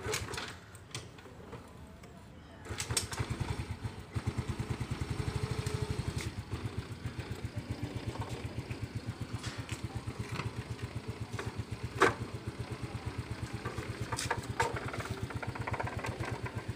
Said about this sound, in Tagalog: Andarin po natin yung motor.